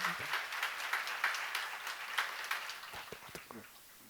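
Scattered applause from a church congregation during a sermon, a burst of clapping that thins out and fades over a few seconds.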